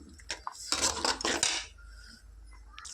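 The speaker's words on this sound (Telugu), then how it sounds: "వన్ స్పూన్ మసాలా వేసుకుంటాను ఫ్రెండ్స్ వేసుకొని కలుపుకుందాం" A spoon scraping and clinking against a metal pot while masala is mixed into egg curry, several quick clattering strokes close by, then quieter.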